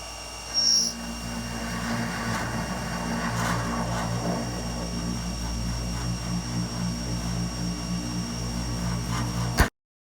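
An end mill cuts stainless steel on a cycloidal-drive 4th axis, giving a steady, loud machining whine with humming motor tones. The sound runs for about nine seconds, then ends abruptly in a sharp burst.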